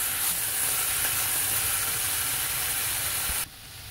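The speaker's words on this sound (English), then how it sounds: "I'm also now going to add bell pepper and the onion." Bell pepper, onion and scallion bottoms sizzle steadily in a pot, a loud even frying hiss that runs unbroken before cutting off abruptly near the end.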